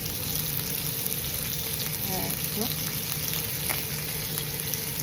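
Bacon frying in a pan, a steady close crackle and hiss of fat throughout, with a brief spoken interjection over it.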